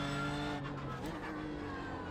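A BMW M4 GT3 race car in the iRacing sim being pushed past its rev limit: a loud, close, sustained engine wail with strong harmonic tones that waver and dip briefly midway, heard alone without talk.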